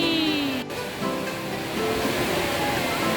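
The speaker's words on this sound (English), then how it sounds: "We're here now in the waterfall of the Changi." The Rain Vortex, a huge indoor waterfall under the dome of Jewel Changi Airport in Singapore, pours with a loud, steady rushing roar that fills the whole space without pause.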